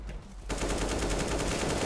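An AK rifle fires in CS:GO: after a brief quiet lead-in, a rapid, loud, sustained burst of automatic gunfire with evenly spaced rhythmic shots continues to the end.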